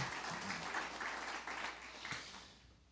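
Church congregation applause: steady, moderately distant clapping from a crowd, holding for a couple of seconds and then fading out.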